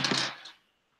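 Two dice rolled in a tabletop board game, a short hard rattle and clatter that stops quickly, with one faint tick just after and then silence.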